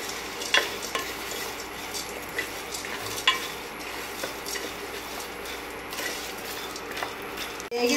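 Dried coconut and garlic fry in a pan, a soft low sizzle broken by spatula scrapes and light metallic clinks as they are stirred, fairly quiet and with no talk.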